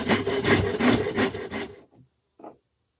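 Rough rasping strokes of sanding on a wooden knife handle for a training knife, steady back-and-forth rubbing close by for under two seconds, then a couple of faint scrapes and silence.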